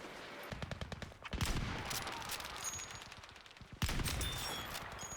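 Gunfire crackles in the Battlefield 5 video game, bursts of rapid repeated shots and a couple of louder sniper rifle reports cutting in at distinct moments, all close and loud over battlefield noise.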